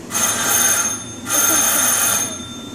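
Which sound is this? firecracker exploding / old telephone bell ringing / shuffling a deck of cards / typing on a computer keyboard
old telephone bell ringing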